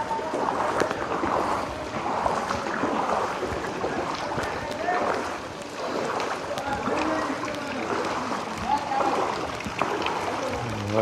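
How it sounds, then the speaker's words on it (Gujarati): Floodwater rushes through a flooded residential street after heavy rain: a steady, broad wash of moving water under frequent talk, with a few swells in loudness. "જુઓ તમે કેટલું પાણી જાય"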